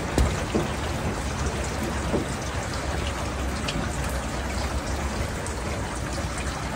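Rainwater pours steadily into a house through a leaking roof during heavy rain, a constant dense splashing and trickling close by with no pauses.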